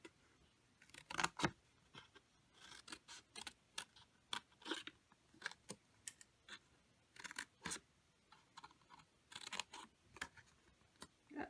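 Scissors snip through a cardboard box lid in quiet, irregular bursts of short crisp cuts, with brief pauses between clusters of snips.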